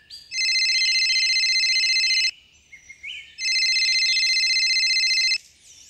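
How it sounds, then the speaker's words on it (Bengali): A phone rings in a Bengali detective audio drama: two long, loud electronic trilling rings separated by a short pause, clean and close with no voices over them. "ফোনটা বেজে উঠল"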